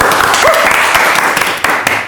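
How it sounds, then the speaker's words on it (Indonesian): Studio audience applause breaks out on a comedy talk show, a dense, loud burst of clapping that rolls on for a couple of seconds with a few sharper hand claps near the end. "tepuk tangan dulu buat Anju."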